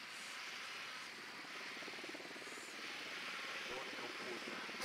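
A cartel supply helicopter in a video game gives a steady, close rotor-and-engine drone that fills the whole stretch without letup.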